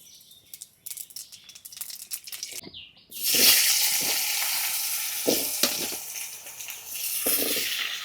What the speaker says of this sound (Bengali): মাছ ভাজার তেলে ফোড়ন দিয়ে দিচ্ছি